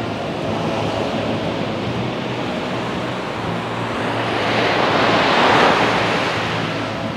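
Surf rolling in at Sanur Beach, Bali: a steady, close rush of breaking waves with some wind noise, swelling louder around the fifth and sixth seconds before easing back. No voices.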